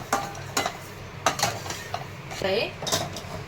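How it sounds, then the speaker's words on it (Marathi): Milk goes into semolina roasted in ghee for mango sheera, with a spoon scraping and clinking against the pan in quick, irregular strokes and a soft sizzle underneath. "आता यामध्ये दूध टाकून घेणार आहे"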